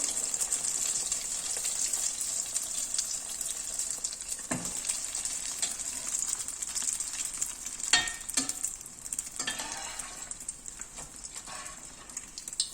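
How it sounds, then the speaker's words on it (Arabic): Dough coated in egg fries in hot oil, giving a steady, faint sizzle and crackle throughout with a few sharper clinks and pops, and no talking. "بعد غادي ناخدها باش ندخلها للزيت. بسم الله. الزيت راه سخون"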